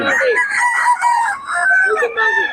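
A Golden Monkey Sweater bloodline gamecock lets out one loud, close crow, a strained, warbling call lasting a couple of seconds.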